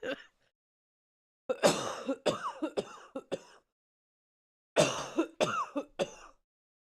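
Two bursts of harsh coughing and throat clearing, close by, separated by a few seconds of silence.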